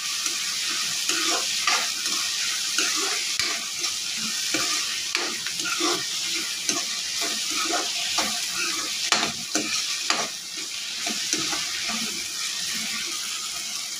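Ridge gourd curry being stirred in a pan after salt goes in, with a steady close sizzle of frying under repeated scraping and stirring strokes, no talking.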